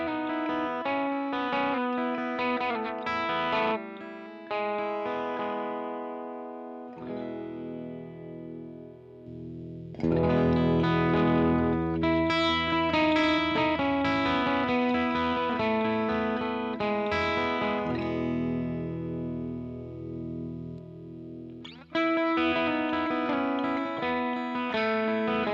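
Electric guitar played through an Origin Effects screamer-style overdrive pedal, with driven chords and ringing sustained notes that swell and decay in several phrases, played alone without talking.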